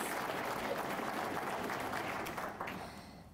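Applause from an audience at a business community service awards ceremony, dense clapping that stays steady and then tapers off near the end.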